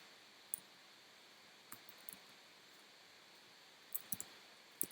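Sparse, faint keyboard key clicks while code is typed, a few isolated taps and short clusters against a quiet background.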